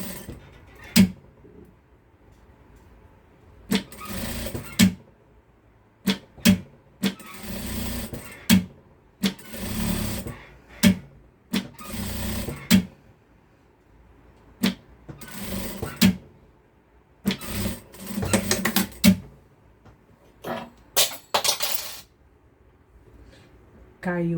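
A sewing machine stitches fabric in short whirring bursts, stopping and starting repeatedly as the presser foot is lifted and the work adjusted, close by, with someone speaking quietly between runs.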